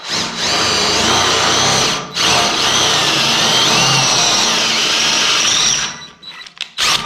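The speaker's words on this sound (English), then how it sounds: "And drill out the spot weld." Larger power drill cutting out a spot weld on a steel beam, a loud sustained grinding whine with a brief pause near the start, then stopping and leaving a few short knocks and rattles.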